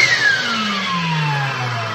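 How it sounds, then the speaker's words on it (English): The vacuum pump of a homemade vacuum former switches on to pull a heated, softened plastic sheet down into shape, a loud, steady motor whine that slides gradually lower in pitch. "then I switch it down to the vacuum"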